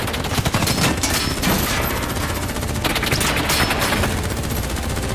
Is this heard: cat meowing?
no